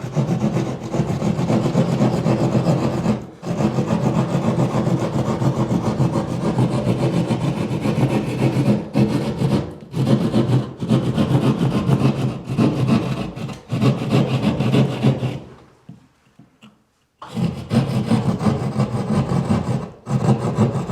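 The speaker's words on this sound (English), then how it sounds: "When I'm always cutting with a drywall knife, I don't want to sink the knife too much, maybe about 1 inch max." A drywall knife saws steadily through a ceiling while recessed lighting is being installed, a close, continuous rasping that runs for about twenty seconds with a few brief pauses, including one longer gap near the end.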